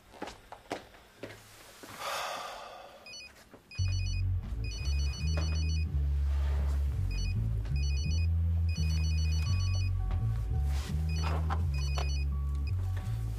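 A mobile phone rings with a repeating electronic ringtone melody, steady and fairly loud, after a few seconds of quiet rustling and breathing, with no talking over it.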